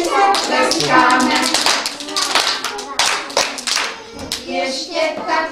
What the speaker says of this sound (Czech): ručkama si zatleskáme